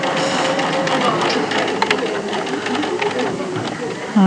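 A sewing machine runs in short rapid bursts, stitching across a zip facing placed right sides together, a close, steady mechanical whirring with brief pauses.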